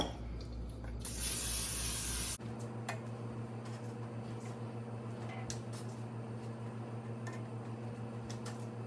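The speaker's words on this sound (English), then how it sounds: "You're just going to cook them in a warm pan until they are brown on all sides." Meatballs browning in a warm pan give a steady close sizzle, opening with a loud hissing burst and then settling into constant frying crackle with light ticks.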